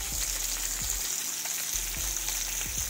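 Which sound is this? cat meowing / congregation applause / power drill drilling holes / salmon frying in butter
salmon frying in butter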